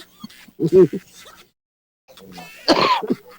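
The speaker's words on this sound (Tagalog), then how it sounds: "Ay, inubo na." Two harsh, close coughs separated by a brief silence; the second is louder and rougher, with a throaty rasp.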